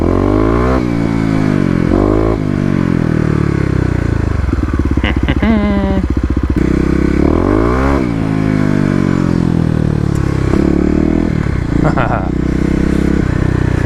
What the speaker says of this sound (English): Bet on these leaves I'll just spin the tires easily.